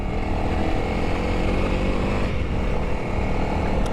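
A Honda CRF 300L motorcycle engine drones loudly and steadily under acceleration, a dense buzzing roar with wind rush that dips briefly and then picks up again, no talking.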